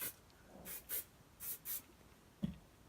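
Hair spray hisses from a can in four short bursts, close and soft, in a quiet room, followed by a small tap.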